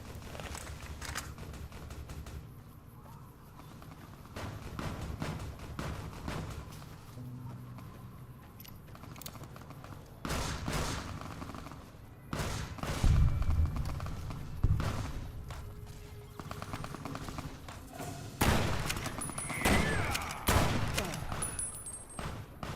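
Bursts of gunfire from a Fallout: New Vegas firefight, several scattered volleys at moderate loudness over a steady game ambience, with footstep-like rustles between them.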